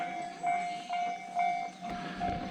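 A train passing a railway crossing in Kyoto, a steady ringing warning tone pulsing at a regular beat over low rolling rumble, moderately near amid street ambience.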